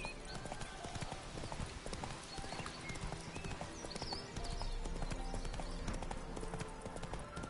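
Horse hooves clip-clop at a steady trot in The Witcher 3 video game, with rhythmic hoofbeats continuous and fairly close against the game's ambient backdrop.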